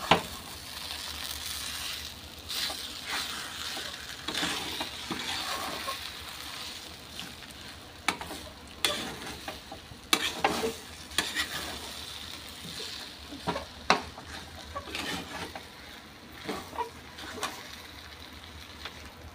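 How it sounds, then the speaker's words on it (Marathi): Steamed upma mixed in a pan, with a low background sizzle under irregular scraping and clinking strokes of a spoon against the pan, close and fairly quiet, no talking. "आता हे मस्तपैकी आपण मिक्स करून घेऊया"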